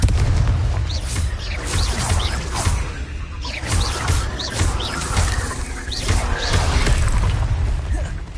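Confringo fire spells cast repeatedly in Hogwarts Legacy gameplay, loud booming blasts and crackling bursts arriving in quick succession over a busy combat mix.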